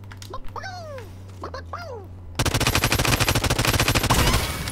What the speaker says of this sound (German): wie schlecht schießt man eigentlich mit der MP?